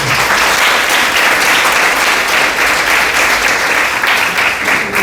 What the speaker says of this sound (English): they actually deserve a little round of applause for showing up.